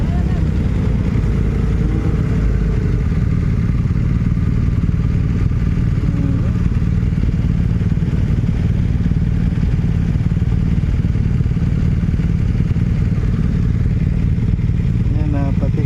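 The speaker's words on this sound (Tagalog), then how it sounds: "Grabe mga kanay, mga motor dito, oh." Continuous low engine rumble from passing BMW motorcycles fills the scene, steady and fairly loud, with indistinct voices underneath.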